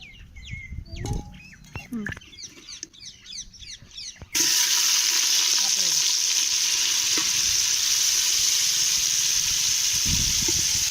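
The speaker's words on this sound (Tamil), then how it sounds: "பன்னீர் பதக்க எண்ணெய் ஊற்றுறேன்." Paneer fries in oil in a pan, a loud, close, continuous sizzle that bursts in suddenly after a stretch of quieter kitchen noise and birdsong, then stays steady to the end.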